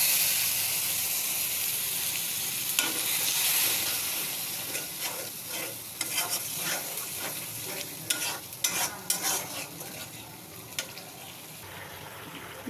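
Ginger, garlic and cumin paste fries in a pan with turmeric and chili powder, giving a steady close sizzle and hiss. Scraping stir strokes grow more frequent toward the end.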